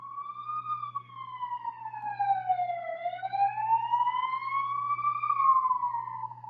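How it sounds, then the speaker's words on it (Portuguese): An ambulance siren passes by, a loud, clear wail sweeping slowly down and back up in pitch over several seconds, with a low engine hum beneath it. "E passa a ambulância. Vamos deixar passar."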